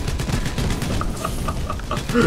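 Rapid gunfire from the DieselStormers video game, a quick burst of repeated shots mixed with game effects and a voice underneath, close and fairly loud.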